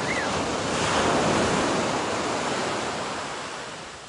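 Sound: gentle sea waves

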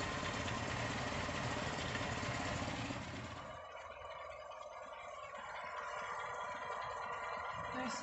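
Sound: 1979 Land Rover Series 3 engine idling quietly

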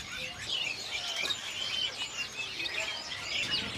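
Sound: caged male magpie robins (murai) chirping at bird market

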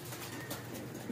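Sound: pet pigeons cooing

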